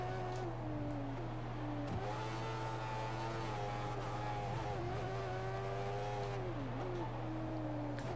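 F1 race car from the F1 2014 video game at Catalunya, its engine holding a loud steady drone with rising and falling pitch as it brakes and accelerates through a chicane and the final corner, someone commentating over it.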